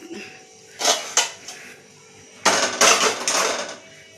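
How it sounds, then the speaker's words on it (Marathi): A metal pot for tea is handled in a home kitchen, giving a few clanks and scrapes in two short bursts with quiet gaps between. "जरासं चहा ठेवते, पातेल चहा ठेवते."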